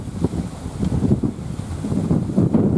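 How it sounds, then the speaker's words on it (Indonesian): Strong, extreme wind buffets the microphone outdoors during a bird hunt, a loud continuous rumbling roar that surges and eases without pause, with no talk heard. "karena cuacanya sangat ekstrim ya. Ini bukan angin biasa, tapi fenomena alam."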